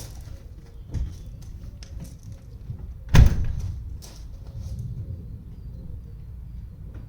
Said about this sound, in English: So let's just now open the boot.